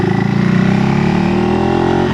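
A 2025 KTM 390 Enduro R single-cylinder fitted with a Coober decat pipe revs up, a loud close engine tone climbing steadily in pitch and holding under acceleration.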